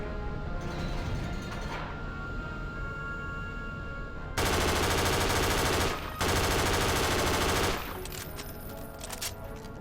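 Automatic gunfire from a reskinned MP7 in the video game Half-Life 2 Episode 3, with two loud sustained bursts of rapid fire separated by a brief pause, over quieter in-game ambience.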